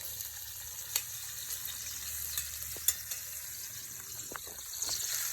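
Onions frying in an iron skillet, a continuous bright sizzle with scattered soft clicks and stirring scrapes, moderately close and without talking.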